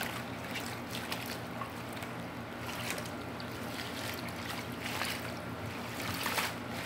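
Kale leaves are swished and massaged by hand in a bowl of salted water, giving a steady soft sloshing and trickling that runs on without pause and without talk.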